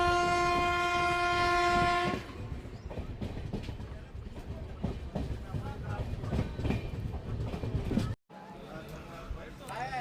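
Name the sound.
train entering Ghataprabha railway station, platform 1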